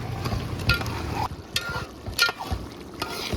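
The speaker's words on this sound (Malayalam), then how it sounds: "നല്ലപോലെ ഒന്ന് ഇളക്കി കൊടുക്കാം" A spoon stirs a thick chicken stew seasoned with pepper and garam masala, making several close, wet scraping strokes against the pot over a faint simmer.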